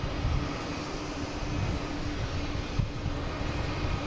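An Airbus A321neo on its takeoff run at Boston Logan International Airport, a steady broadband engine roar heard from a distance, continuous and even with no talking.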